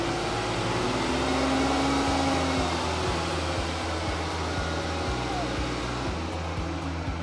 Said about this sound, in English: increase the RPMs to 2500 and keep it there for 5 seconds